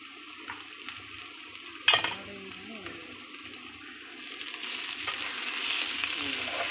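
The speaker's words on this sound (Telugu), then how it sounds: "చూడండి చక్కగా ఫ్రై అవుతా ఉంది." Cabbage frying in a pan without salt gives a soft, faint sizzle, with a sharp utensil clank near the start and a hiss that grows louder and fuller toward the end.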